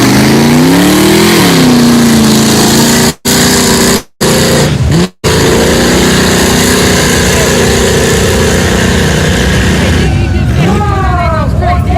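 Street trucks racing at a mud bog event, loud engines roaring and revving with rising and falling pitch sweeps, heard alongside crowd noise and a voice talking, with a few brief dropouts in the sound.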